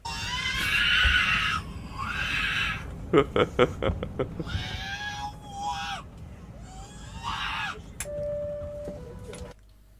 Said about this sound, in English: Why does the screaming baby on this plane What? sound exactly like R2-D2?